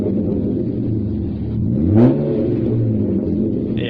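BMW E36 with its muffler deleted, revving up close: a deep, raspy rumble that swells into a single rising rev, then settles back to a throaty idle, loud and alone.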